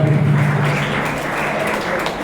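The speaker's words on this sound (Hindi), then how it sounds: "तालियां बजती रहनी चाहिए" A crowd at a 2021 student award ceremony claps continuously, a dense, steady wash of applause filling the room without pause.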